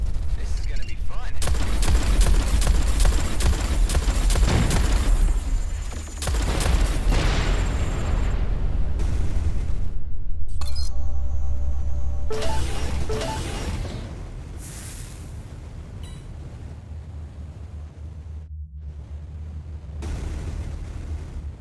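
A turret fires and explosions boom in the space combat video game Everspace 2, with loud bursts and blasts in heavy succession that later fade to quieter rumbling.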